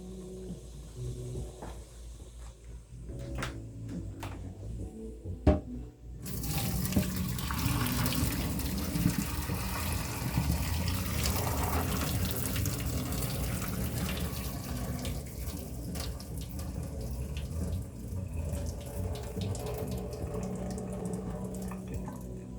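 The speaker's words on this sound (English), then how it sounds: "I'll pour the water off of the pasta." After a few quiet clinks, pasta water gushes into a sink as it is drained and keeps pouring steadily for over fifteen seconds, loud and close, with no talking.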